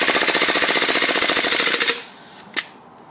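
An airsoft Glock 18C gas blowback pistol fires full-auto in a rapid, loud, evenly spaced burst of sharp cracks for about two seconds, then falls quiet with one final pop as the gas runs out.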